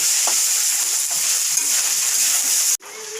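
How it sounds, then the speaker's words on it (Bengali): Cashews frying in a pan for Jagannath pulao, a steady close hissing sizzle with faint stirring scrapes, cut off abruptly near the end. "এটা আমি হালকা হালকা স্টিম নিয়ে ভেজে নিচ্ছি এখন এর মধ্যে আমি কাজু কিচুরগুলো দিয়ে দিচ্ছি"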